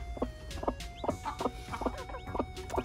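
Newly hatched chick peeping softly in a steady series of short, high chirps, repeating roughly twice a second, faint and close against a quiet room background.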